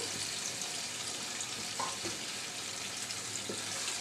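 Okra and loitta fish fry together in a pan, cooked village style, giving a steady, dense hiss that stays even throughout, with a couple of faint clinks.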